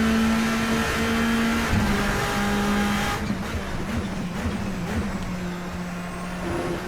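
Bentley Speed 8 race car engine in Assetto Corsa, a steady loud drone holding pitch, dipping briefly as it shifts, then a rougher, busier stretch of revving with some tire noise.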